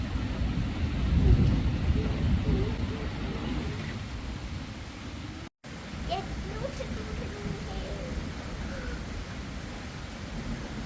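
Heavy unseasonal storm rain pours steadily at night with low rumbling, like distant thunder, and a voice speaks faintly beneath the downpour.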